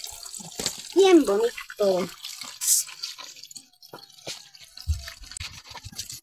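Ijiachu being washed in water gives soft drips and small splashes, intermittent and close, while a person speaks between them.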